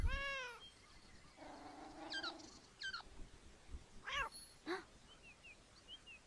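Several cat meows from the video game Beyond Eyes: one clear meow at the start, a longer drawn-out call, then a few shorter chirpy mews spaced apart over quiet background ambience.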